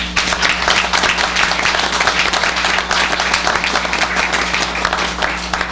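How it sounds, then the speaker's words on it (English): Sustained applause fills a city council meeting in Pine Bluff, dense steady clapping from the attendees holding an even loudness throughout. "So let's give each one of these a huge applause."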